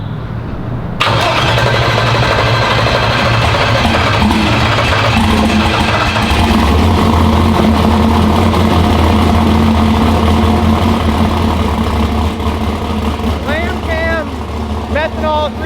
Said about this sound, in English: So we'll fire it up, just let it idle for a little bit, rev it a little bit